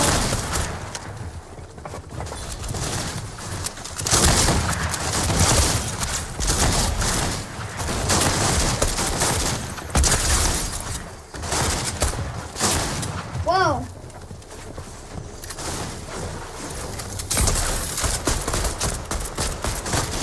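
Fortnite Creative minigame gunfire, with rapid bursts of shots and occasional booms that run throughout the clip, mixed with a player talking over the game sounds.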